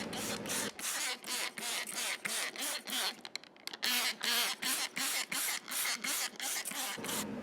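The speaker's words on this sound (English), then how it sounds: "You want to spray the window grooves." A spray bottle fires rapid, regular hissing bursts of cleaning solution onto a window, one after another with brief pauses, close and fairly loud.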